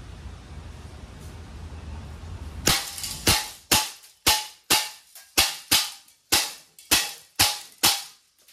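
A Crosman AK1 CO2 airgun fires in semi-automatic mode, about a dozen sharp, loud snapping shots in an even rhythm roughly half a second apart, following a quiet stretch of low background hiss.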